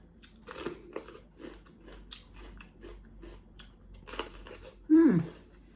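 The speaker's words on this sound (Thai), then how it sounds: "กรอบครับ พริกกรอบกรอบ" Crispy fried chili in a spicy Thai glass noodle salad with sweet shrimp being chewed close up, a run of short crunchy bites and clicks, followed by a brief vocal murmur of enjoyment.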